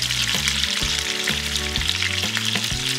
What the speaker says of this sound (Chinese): 连续3面煎，煎至表面焦黄的程度。